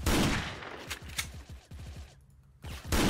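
Rapid gunfire in the Korean shooter Special Force, a sniper mission with the M200, comes as quick repeated shots in a fast volley, fairly close, then a brief lull before more loud blasts.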